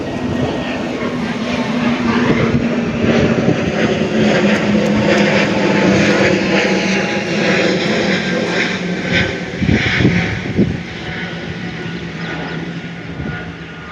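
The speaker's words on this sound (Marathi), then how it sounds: "विमान आले, विमान विमान बघा" An airplane flies overhead near Pune airport, heard from a rooftop terrace as a loud, sustained engine drone that builds, holds for several seconds and then gradually fades away.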